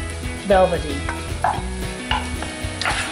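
Scrambled eggs stirred in a pan, a spatula scraping in a few separate strokes over a steady soft sizzle, close and clear with no talking.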